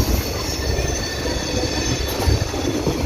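A DEMU passenger train runs between Wankaner and Morbi, giving a loud, steady rolling roar with rumbling wheels and faint squeal throughout, continuous and close.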